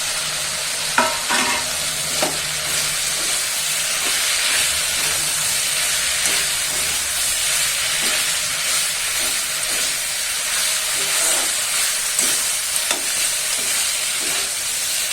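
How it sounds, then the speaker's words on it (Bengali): Soya chunks are stirred and fried in oil, giving a constant loud sizzle and hiss broken by repeated scraping and clinking strokes of a spatula against the pan. "ভালো করে সয়াবিনগুলো নেড়ে চেড়ে নিলাম"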